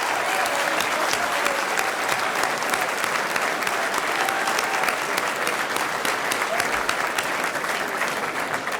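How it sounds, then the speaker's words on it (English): Crowd applause at a U.S. Senate election victory speech in Indiana, a loud, steady roar of clapping from a large audience lasting throughout, with faint voices beneath. "Why don't we all give the Bai family a round of applause"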